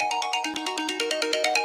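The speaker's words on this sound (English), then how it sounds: "sorry, that was a phone call" An incoming phone call sets off a ringtone: a loud, close melodic pattern of rapid repeating electronic notes, steady and uninterrupted, with no voices over it.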